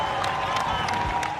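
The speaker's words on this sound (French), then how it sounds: "le cortège funéraire du pape François arrive sous les acclamations" A large crowd cheers and claps outside Rome's Basilica of Santa Maria Maggiore as Pope Francis's funeral procession arrives; the dense roar of voices and applause stays continuous and loud throughout the short stretch.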